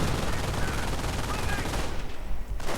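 Dense gunfire in a World War II strategy game battle, continuous overlapping machine-gun bursts and shots forming a loud, unbroken roar that thins slightly near the end.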